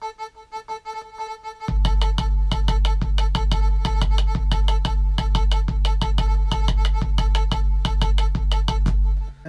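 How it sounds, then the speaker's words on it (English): A looped melodic sample plays alone at first, then a booming 808-style kick and crisp rim shots join in a steady groove, loud and upfront throughout. "put some 808 kind of kick and rim shot with it"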